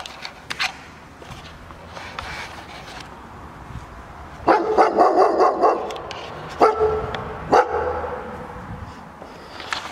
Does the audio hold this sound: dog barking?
yes